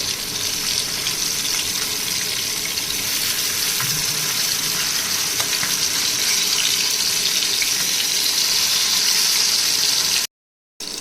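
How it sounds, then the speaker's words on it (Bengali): Sarputi fish fry in hot oil in a frying pan, giving a steady, close, even sizzling hiss throughout that cuts out briefly near the end, with no voices. "এখন মাছগুলো গরম তেলে ভেজে নিব।"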